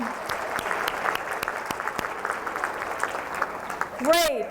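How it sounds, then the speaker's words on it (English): Scattered audience clapping at a professional speaking event, moderately quiet with distinct individual claps over a murmur of crowd voices, and a speaker resuming at the end. "Give yourselves a round of applause for that."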